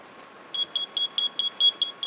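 A Furniture Mod device in Minecraft 1.7.2 gives a series of about eight short, evenly spaced high-pitched electronic beeps. The beeps are clean and fairly quiet, and they start after a brief near-silent moment.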